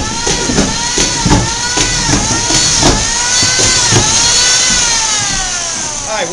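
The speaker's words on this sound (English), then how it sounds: "I'm screwing all your subfloors to your joists" A power screwdriver drives screws through subfloor into the joists of a Bloomfield Village home, giving a loud, close, whining motor tone that rises and dips in pitch, with repeated short bursts and clicks.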